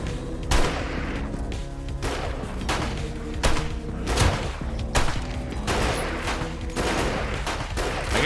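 Pistol shots in the video game 7 Days to Die: a steady run of sharp, loud cracks spaced about half a second to a second apart, firing repeatedly over game noise.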